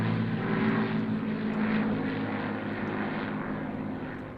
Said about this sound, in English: It's the Battle Britain Memorial Flight